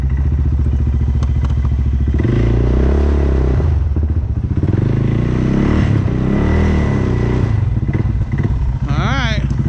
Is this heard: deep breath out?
no